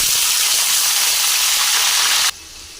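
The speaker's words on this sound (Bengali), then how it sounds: "বিনস ভেজে নেব।" Green beans frying in a pan for cauliflower fried rice: a loud, dense, continuous sizzling hiss close by that suddenly drops to a softer sizzle near the end.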